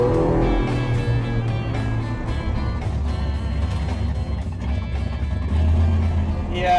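A rat rod hot rod rumbling along the road, its engine droning loud and close with shifting low tones and rattling cabin noise throughout.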